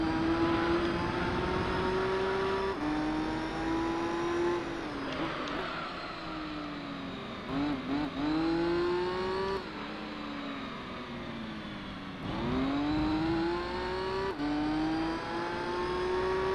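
Race cars in Gran Turismo 3, a Viper and a Corvette among them, whining engines climbing through gears with brief lifts and downshifts between straights, loud and sustained, with no talk.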